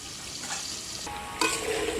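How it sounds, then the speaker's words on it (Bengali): Potatoes frying with salt and turmeric in a covered pan for Kashmiri aloo dum, giving a steady soft sizzle with faint stirring scrapes and a brighter burst of frying noise toward the end. "ঢাকা দিয়ে দিয়ে ভাজবো, যাতে তাড়াতাড়ি আলুগুলো সেদ্ধ হয়ে যায়।"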